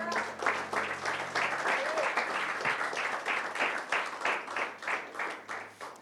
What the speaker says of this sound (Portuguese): Então vamos aplaudir o nosso Deus.